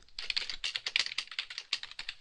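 Rapid, irregular clicking of fingers typing a WordPress post title on a computer keyboard, close and clear, with no talking.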